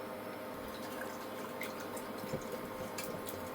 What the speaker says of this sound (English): Just use water to rinse it.